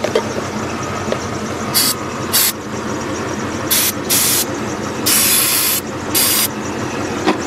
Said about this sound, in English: Spray the crap out of it, why not?